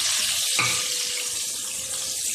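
Chopped onions hit hot oil already sizzling with cumin seeds in a pan while cooking dhaba-style masoor dal, a sudden loud hiss that holds as a steady bright sizzle.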